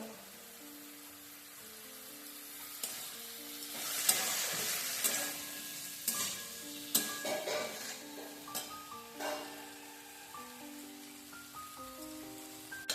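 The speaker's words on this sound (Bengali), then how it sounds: "আলু, কুমড়ো, সোয়া চাল আমার কষানো হয়ে গেছে" Potato, pumpkin and sama rice sautéing with ground spice paste for a vegetarian khichuri, giving a steady soft sizzle with scraping stirs and occasional sharper crackles under gentle background music.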